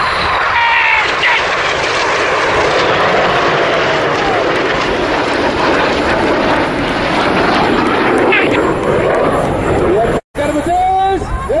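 Red Arrows RAF jets flying a Synchro pass at a 2011 air show in Turkey, a loud continuous engine roar sweeping overhead, with crowd babble and commentary under it and a brief dropout near the end.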